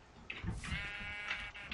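A sheep in the Minecraft Tekkit modpack gives a short bleat, then a second, quieter one, both faint and set against near silence.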